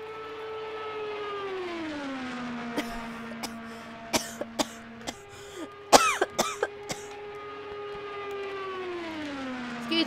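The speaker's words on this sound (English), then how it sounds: "I've got a bad cough as well." A person coughs and clears their throat in several sharp bursts during an IndyCar oval race in Project CARS 2, over a steady whining race-car engine tone that rises and falls in pitch.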